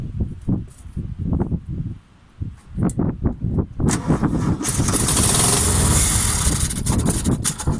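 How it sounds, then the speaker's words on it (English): A Volkswagen T25 engine cranking slowly on the starter after petrol is added to the carburettor, with rhythmic labored turnover pulses before it builds into a louder, steadier roar up close. "so this cranking sounds slow"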